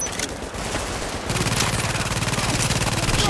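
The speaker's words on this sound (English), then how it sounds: "Shooting from behind, turret." Turret gunfire in The Division video game, a dense rapid automatic burst that kicks in about a third of the way through and rattles on loud and steady to the end, over a softer noisy lead-in.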